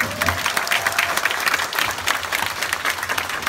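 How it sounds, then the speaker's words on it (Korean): Concert audience applauding warmly after a cover performance of a Korean rock song, a dense steady wash of clapping hands throughout with a faint voice beneath. "박수 한번 더."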